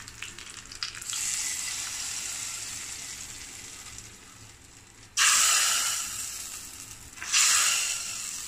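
Hot onion and curry leaf tempering poured into a mullet curry made with coconut milk. A steady sizzle fades, then two sharp, loud hissing bursts erupt a couple of seconds apart, close up and with no talking.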